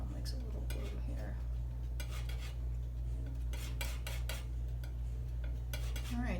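A palette knife or brush scrapes and dabs paint on a palette in quick irregular strokes, up close over a steady low hum.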